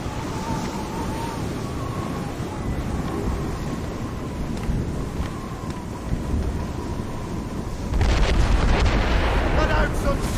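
Mortar and cannon fire rumble through a naval battle in Assassin's Creed Rogue, a constant low roar of sea and gunfire with a heavier burst of booming near the end.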